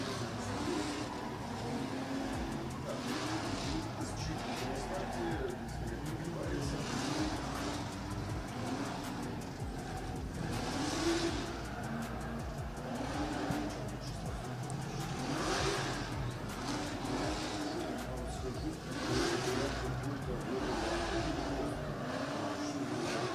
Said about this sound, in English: just in the burnout box, warming in tyres in that E46 BMW